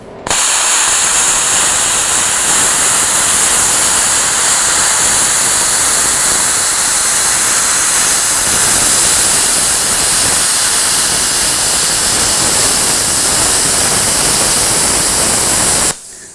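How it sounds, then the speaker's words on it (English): A plasma cutter gouging a weld bead off metal gives a loud, steady roaring hiss that runs unbroken for about fifteen seconds, then cuts off abruptly, with no talking. "We'll fire the machine up and see how I do."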